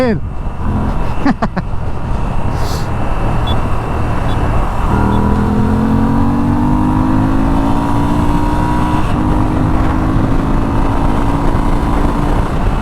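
A Moto Guzzi V7 Stone motorcycle is being ridden: a loud, steady engine drone under constant wind rush, with the engine note climbing in pitch through repeated acceleration after a few seconds.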